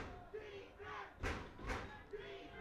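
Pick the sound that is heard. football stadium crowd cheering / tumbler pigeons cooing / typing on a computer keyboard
football stadium crowd cheering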